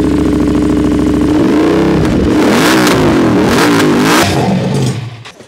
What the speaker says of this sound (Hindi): तो अब इसमें लगा है एससी प्रोजेक्ट शॉर्ट कैन और इसकी सुनते हैं साउंड किस तरीके से आने वाली है।